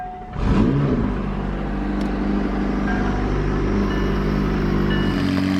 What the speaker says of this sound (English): The way the turbos on the Mclaren 600Lt whistle is like nothing else with that aftermarket exhaust and tune.